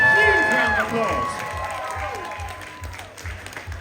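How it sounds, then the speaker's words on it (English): A convention audience at a charity auction breaks into loud applause and cheering, dense clapping that gradually tapers off. "Give yourselves a huge round of applause."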